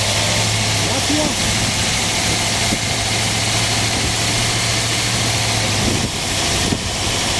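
A 1980 GMC van's exposed 350 engine idles just after start-up, a loud, steady, close rumble with an even hum and rattle throughout, and no clear speech over it.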